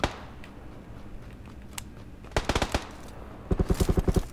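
Gunfire in PUBG: a quiet stretch breaks into a short burst of rapid shots, then a longer fast string of close, loud automatic fire near the end, with no talk over it.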